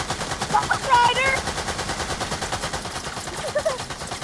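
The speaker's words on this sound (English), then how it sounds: "the shooting is getting annoying" Fortnite gunfire: rapid, sustained automatic shots hammering in a steady fast rhythm, loud and close, with sharp pitched game effects overlaid near the start and end.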